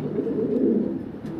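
Large pigeons kept together in a cage coo in a low, warm, throaty murmur that rolls on steadily and close by, with no voices over it.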